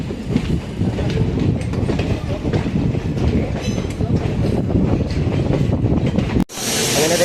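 Basava Express running into Mysuru Junction, with a heavy steady rumble and repeating wheel clacks under wind buffeting. The sound cuts off abruptly near the end and gives way to a bright hiss.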